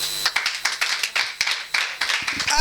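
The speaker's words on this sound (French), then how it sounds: "Acclamons la parole." A church congregation applauds in rhythmic bursts of claps, loud and close, with uneven pulses filling the space.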